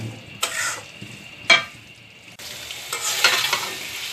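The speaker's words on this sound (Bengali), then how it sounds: "আলু সিমের বিচি কষানো হয়ে গেছে" Potatoes and bean seeds sautéing with spices in a pan, a steady close sizzle broken by a few louder scraping stirs, the frying growing brighter toward the end.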